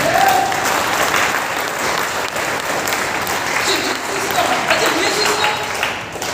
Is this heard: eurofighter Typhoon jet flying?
no